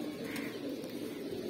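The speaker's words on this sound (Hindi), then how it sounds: "बहुत ही प्यारी कबूतरी है" A female teddy pigeon coos softly nearby, a low, steady murmuring coo over quiet background hiss, with no speech.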